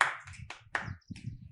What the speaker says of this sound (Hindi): योगेश के लिए तालियां।